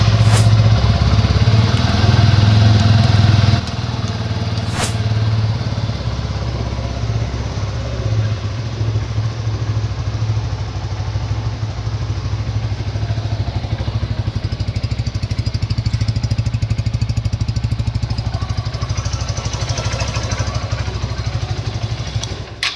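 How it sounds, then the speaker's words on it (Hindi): A Hero Xpulse 200T 4V motorcycle's single-cylinder engine runs steadily at idle, a close, loud, even low thrum that holds for the whole stretch, with a brief blip near the start and no talk over it. "तो कुछ इस प्रकार के इंजन की साउंड मिल जाती है।"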